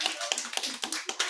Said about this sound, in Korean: 우리 감사와 영광의 박수를 하나님께 올려드리겠습니다.